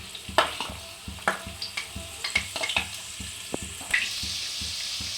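Chopped garlic frying in hot oil in a wok for a dhaba-style egg tadka, a steady close sizzle broken by sharp clicks and scrapes of stirring.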